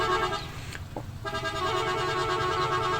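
A lorry horn sounds in a village, with harmonic honking held through most of the three seconds and a brief dip near the one-second mark, over heavy broadband engine and road noise.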